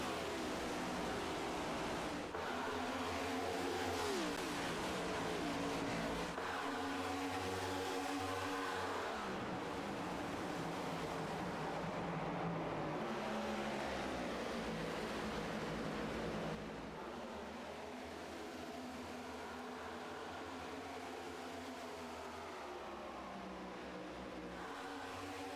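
Race cars accelerate on a track during an HTL Cup Series Charity 350 event, the engines rising and falling in pitch as they pass, one after another, with a steady broad roar throughout and no talk.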